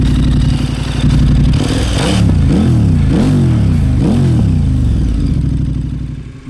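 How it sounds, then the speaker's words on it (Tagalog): KTM 1290 Super Adventure S motorcycle engine revving loudly up close, several sharp throttle blips rising and falling in quick succession over a steady idle, with no talking. "Itong motor nga pala na ito ay KTM 1290 Super Adventure S"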